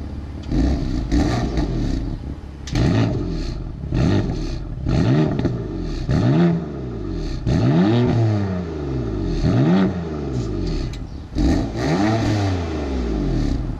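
A BMW M4 engine revs repeatedly, about eight sharp blips that rise and fall in quick succession, loud and close with no talking.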